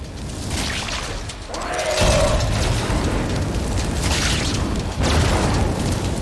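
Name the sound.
explosion in the video game Warframe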